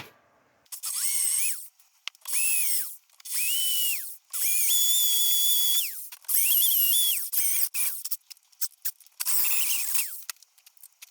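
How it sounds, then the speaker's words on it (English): A power drill bores through a metal engine mount clamped in a vise for a Ford Escort MK1 Zetec conversion, whining in about seven separate close, loud bursts of one to two seconds each, with short quiet pauses and clicks between runs. "drill through a little bit each time and bolt it up as we go to keep it tight"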